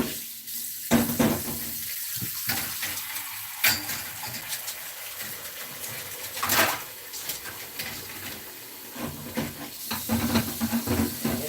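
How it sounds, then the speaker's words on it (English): Water runs from a kitchen tap into containers, a steady hissing splash that shifts in pitch and strength as the flow changes. "I'm going to go ahead and get some water in these."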